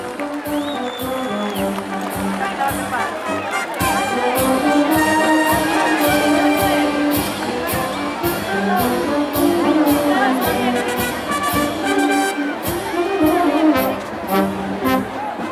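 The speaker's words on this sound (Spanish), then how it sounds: "Y el público aplaude en la tarde de hoy" A bullfight crowd in a packed Peruvian bullring at La Unión applauds and cheers steadily, with a rhythmic band or chanting pulse running loudly throughout.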